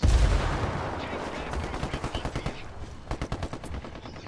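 Rapid automatic gunfire in the tactical shooter Ghost Recon Wildlands: a heavy opening blast, then a string of fast, loud, close bursts with a brief lull and a second volley.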